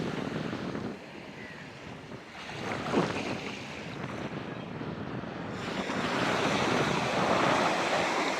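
Sea waves wash onto the shore in a continuous roaring surge with wind buffeting the microphone, swelling louder toward the end, and no voices over it.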